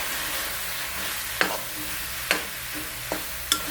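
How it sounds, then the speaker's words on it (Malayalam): A salted mixture being stirred in a pan for a Kerala-style chutney powder or pickle, soft steady sizzling broken by four sharp scraping strokes of a spoon. "ഉപ്പിട്ടിട്ട് ഒന്ന് ഇളക്കിയിട്ടാം."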